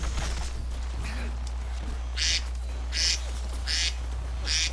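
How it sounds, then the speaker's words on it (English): Repeated quacking set as a companion call in Fallout 4, four short nasal bursts at a steady interval over a low game hum, fairly loud with no talk. "I put the annoying quacking sound as my mom."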